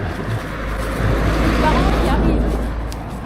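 A bus rolls past on a country road near the end of a hike in Coux, a steady broadband engine and tire rumble swelling and then easing over a few seconds, close by.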